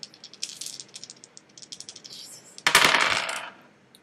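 Dice for the Memoir '44 board game rattle and clatter, first a series of quick light clicks, then a louder burst of tumbling as they spill onto the table, heard close and without talk.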